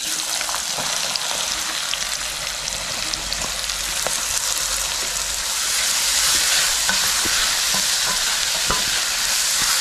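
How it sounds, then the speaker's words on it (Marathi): Onions and cumin fry in hot oil with a steady, bright sizzle, stirred now and then with soft scraping clicks, close and continuous throughout without talk. "आपण जो जास्त प्रमाणात जो कांदा घेतला आहे ना तो आता ह्या तेलात टाकायचा आहे."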